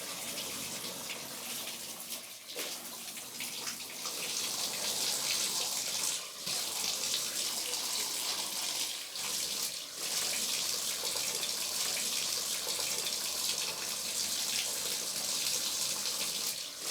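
Water runs steadily from a tap while someone bathes with soap and chocolate, a close, continuous gushing stream with small splashes and handling noises breaking through now and then.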